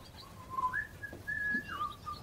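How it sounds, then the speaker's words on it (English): A man whistles a wandering tune, clear melodic phrases rising and falling alone over faint outdoor background. "Is Dad actually whistling?"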